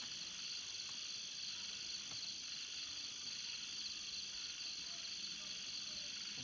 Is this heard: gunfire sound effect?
no